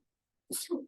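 A single short, faint sneeze comes from one person during a calm indoor lesson: a quick breathy burst followed by a throaty release, with silence before it.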